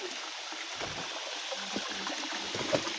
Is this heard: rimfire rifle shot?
no